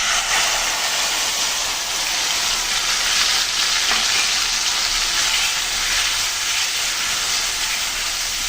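Ground spice paste hitting hot oil with deep-fried onions in a pan for a mustard-paste fish curry, giving a loud, steady hiss and sizzle throughout, close up and with no talking.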